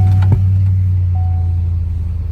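A 2003 Chevrolet Suburban engine catches with a brief crank at the start, then settles into a steady, loud low idle rumble that continues close by.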